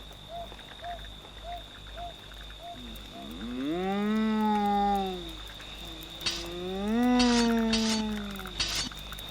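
A cow lows twice in long, drawn-out moos, the first starting a few seconds in and the second following after a short pause, loud and close inside a house, with faint knocking earlier and a steady background hum.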